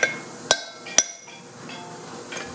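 Three crisp hammer blows on a brass drift seating a trailer wheel bearing race, close and ringing, then a few softer taps fade into quiet shop background.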